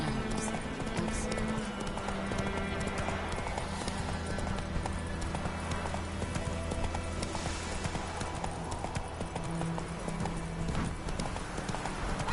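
A horse's hooves galloping on the ground in The Witcher 3 video game, rapid steady clip-clop rhythm that runs continuously and loudly over game ambience, with a faint snort or whinny.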